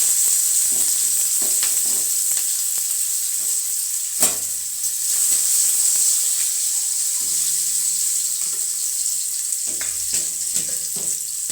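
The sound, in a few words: onions frying in hot oil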